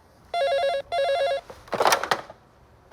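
An old-style telephone rings with two bursts of electronic trilling at a prank call, followed by clattering handling noise as someone reaches for it.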